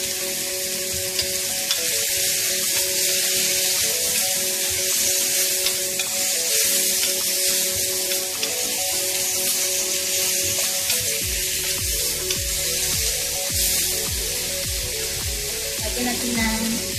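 Beef and vegetables sizzle loudly and steadily in a hot pan as soy sauce is poured in, with a constant frying hiss and occasional stirring.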